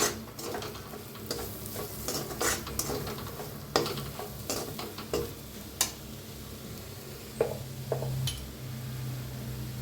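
Matki sambar masala with turmeric and very little oil roasting in a pan for dhaba-style sprouted moth bean curry, giving a soft continuous sizzle broken by repeated scraping clicks of a spoon stirring against the pan, no talking.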